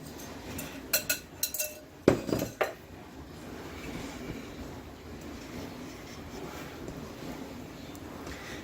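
Banana nut bread batter with flour is mixed in a bowl. A utensil sharply clinks against the dish a few times, followed by a quieter, steady stirring and scraping with no talking.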